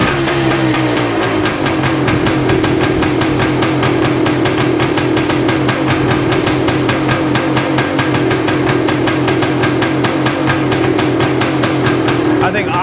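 A cold 1978 Yamaha DT400E two-stroke engine idles around 1500 RPM, a steady, close, rapid putter that holds an even pulse throughout with no voices over it.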